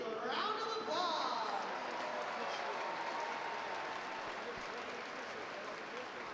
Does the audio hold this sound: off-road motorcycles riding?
no